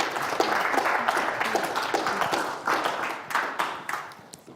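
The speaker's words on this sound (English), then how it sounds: "let's give her a big round of applause." An audience applauds to welcome speaker Dr Monique Charles at the 2019 Media Festival, dense clapping at moderate distance that swells and then thins into a few final claps.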